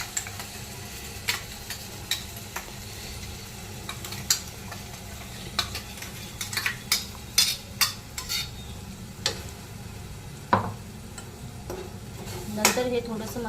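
Onion and ground masala paste frying in a pan, a steady sizzle broken by frequent sharp clinks and scrapes of a spoon stirring against the metal, close up with no talk.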